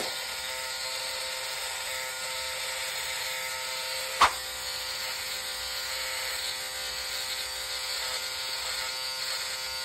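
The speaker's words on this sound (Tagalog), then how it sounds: "So gagamitin natin itong 3-in-1 shaver" A 3-in-1 electric shaver buzzes steadily and close up while trimming a moustache, a continuous high motor whine with a single brief click partway through.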